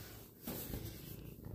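A cat purrs close by, a soft low rumbling that stays steady and quiet throughout with no voices over it.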